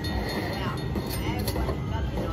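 A train bonus sound effect plays on a Luxury Line slot machine, a dense rumbling mix amid steady casino noise, with people talking over it.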